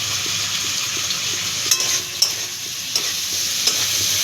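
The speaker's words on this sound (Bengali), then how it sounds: "আমি লাল করে এটা ভেজে নেব" Prawns and potato fry in oil under a steady hiss, with a few sharp clinks and scrapes from stirring.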